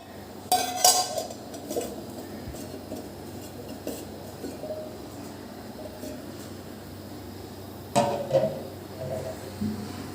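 A plate set over a cooking pot gives a couple of short clinks and scrapes of metal and ceramic, close and fairly quiet, against a steady kitchen hum.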